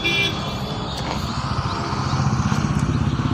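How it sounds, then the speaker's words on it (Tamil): A Tata Indigo Vista Quadrajet diesel engine runs at a steady idle nearby, its low, throbbing rumble continuous throughout, with a voice faintly present over it. "டாட்டாவில் indigo Vista quattro jet engine"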